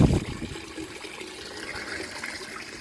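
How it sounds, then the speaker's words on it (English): Water jets and swirls inside a metal keg during cleaning, a brief louder gush at the start, then a steady hollow trickling rush with no talk. "so it's jetting out inside"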